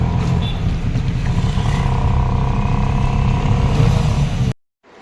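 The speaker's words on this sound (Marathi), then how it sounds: "आता मी इथून रिक्षा पकडले आता बोरिवली स्टेशनला जायचं आहे" An auto rickshaw ride to Borivali station: a steady, close engine drone with rattling cabin noise runs throughout, then cuts off abruptly near the end.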